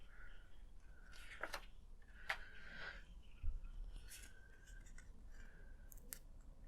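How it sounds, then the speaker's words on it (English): Tape is pulled and pressed down to secure wires on an Ecto 1 model build: a few short, faint rasping peels spaced apart over a quiet hiss. "So now we can put some of the tape down to secure this bit down."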